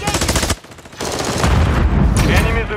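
Automatic weapon fire in a Call of Duty: Modern Warfare III Hardpoint multiplayer match, with dense, loud bursts almost throughout and a short drop in intensity early on, with a voice blended in.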